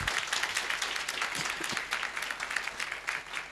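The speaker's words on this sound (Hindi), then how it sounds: "जोरदार तालियां।" Enthusiastic audience applause at an RCM business gathering, a dense steady wash of clapping that carries on evenly for a few seconds.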